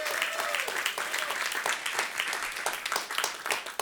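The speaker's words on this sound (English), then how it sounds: "Please give them a huge round of applause." Audience applause fills a hosted Climate Week event at WNYC, a dense, steady wash of many hands clapping close by for the whole stretch without letup.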